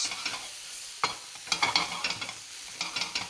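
Onions and chicken tossed in a hot pan or wok for Cantonese-style fried chicken, giving quiet scraping, clattering tosses in uneven bursts with a faint sizzle underneath, close by and without talk.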